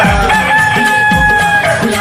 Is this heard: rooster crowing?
yes